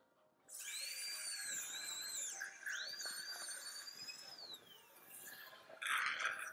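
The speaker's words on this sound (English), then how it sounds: "So what I'm doing is just notching my initial passes in the bone" A high, whining dental drill cuts into jawbone for an anterior dental implant, running steadily for several seconds, its pitch sliding up and down as it cuts, with a brief harsher burst near the end.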